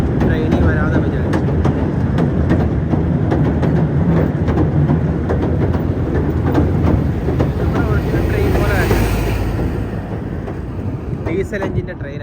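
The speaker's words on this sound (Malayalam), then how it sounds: "ഡീസൽ എഞ്ചിൻ്റെ ട്രെയിനാണത്." Diesel train running along Southend Pier, a loud continuous rumble with rhythmic clicking of wheels on rails that eases slightly toward the end.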